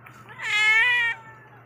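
A single cat gives one clear, loud meow, rising then falling and lasting about a second, close by in a quiet room.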